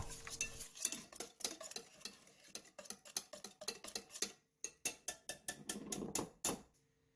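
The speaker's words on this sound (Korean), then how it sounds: "전분가루 2스푼, 설탕 40g, 그리고 한번 섞어주세요." Potato starch, sugar and baking powder are mixed in a bowl, with quick rhythmic taps and clinks of a utensil against the bowl in close, dry bursts and no speech.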